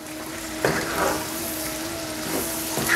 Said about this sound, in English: Now we're going to add our tomatoes.